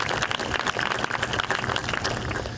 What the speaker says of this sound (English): let's give yourselves a round of applause as well for being here